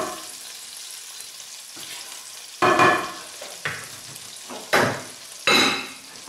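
Hot butter sizzles in a pan while a sorrel soup is being made, a steady close frying hiss broken by several louder bursts of sizzling and stirring.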